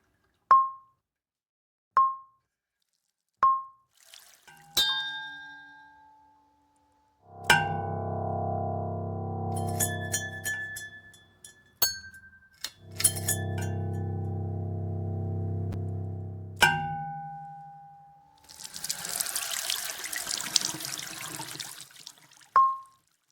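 GlossGlide, an interactive sound piece in its Glide Dial wander mode, drifts between looped sounds: sparse bell-like pings at first, then sustained layered tones, sharp clicks and a hissy wash, each separated by brief pauses of silence.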